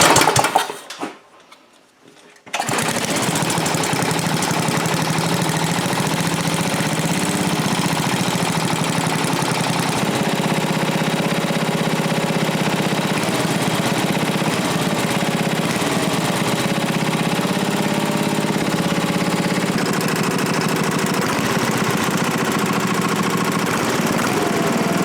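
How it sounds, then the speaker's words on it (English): Briggs & Stratton 8HP Model 19 engine from 1987 with an aluminum bore, in need of a rebuild, starting after a brief quiet moment and then running steadily with a loud, continuous rattling, knocking drone. "Alright, so definitely a good running engine, but it does need rebuild."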